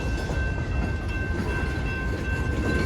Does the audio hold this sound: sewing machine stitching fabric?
no